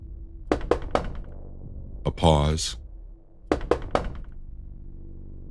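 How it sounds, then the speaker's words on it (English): Knocking on a front door late at night, a few sharp raps in two short bursts with a pause and a brief scraping sound between them, close and clear against a quiet room. "At 11:30, someone knocked at the front door."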